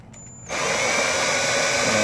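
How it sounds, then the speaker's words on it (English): A power drill spins a manual valve refacing cutter, starting abruptly after a brief quiet moment with a faint whine, then running as a steady, loud, continuous whir close by with no talking. "I start my drill."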